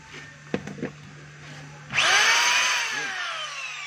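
A DeWalt D25033 rotary hammer set to reverse spins up loudly after a few handling clicks, a strong motor whine that holds and slowly winds down.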